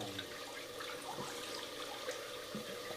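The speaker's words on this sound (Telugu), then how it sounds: "బియ్యం అండి ఇంకా ఉడగొట్టేస్తున్నా, ఈ నీళ్ళు వంచేస్తున్నా" Washing water drains off soaked rice, a steady close splashing and trickling stream that runs throughout without any talk.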